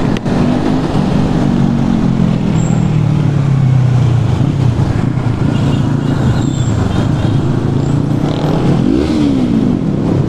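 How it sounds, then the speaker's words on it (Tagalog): Motorcycles with loud aftermarket exhaust pipes roar past during a group unity ride, engines droning and rising in pitch, with one revving sharply near the end; the sound stays loud and continuous throughout. "Hindi ko alam kung dinig pa ba tong audio ng aking camera, gawa ng napakalakas ng mga pipe nila."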